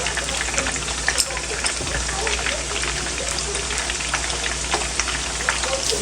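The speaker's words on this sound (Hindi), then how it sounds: "पहले हम प्याज़ों को फ्राई कर लेंगे।" Sliced onions fry in a pan for an Afghani borani eggplant dish, giving a steady close sizzle and crackle with scattered pops and occasional stirring clatter, and no talk.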